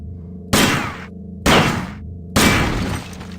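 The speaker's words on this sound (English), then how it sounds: "Oh, that explosion though." Explosions in the 1994 first-person shooter System Shock, three loud, abrupt bursts of crackling, shattering noise, each decaying over about half a second, separated by a steady low electronic hum.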